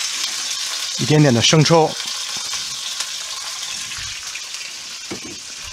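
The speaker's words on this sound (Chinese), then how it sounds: "姜葱煸炒至发软变黄" Ginger and scallion stir-fry in a hot wok for sweet and sour spare ribs, giving a steady close sizzle that keeps on after a short stretch of talking over it.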